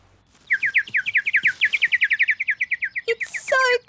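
A cartoon bird chirps and sings in a rapid run of about two dozen bright, even tweets, close and clear, ending in a few higher whistled notes.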